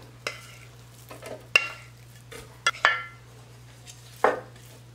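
Chopped bacon frying in a clay pot for frijoles charros, heard as soft sizzling with intermittent scraping and stirring clanks of a utensil against the pot, close and without talk.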